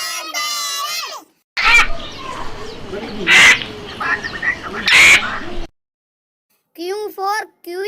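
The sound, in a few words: parrot squawking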